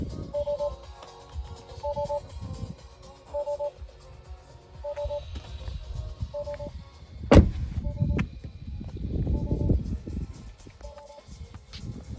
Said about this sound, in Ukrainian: Автомобіль виїжджає.